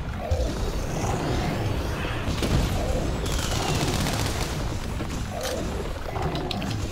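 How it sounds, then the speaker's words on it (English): Heavy bowgun fire with Wyvern ammo during a three-player Monster Hunter World hunt against Nergigante, a loud continuous barrage of booming blasts and mechanical clatter with a roaring monster in the mix. "Using this Wyvern ammo."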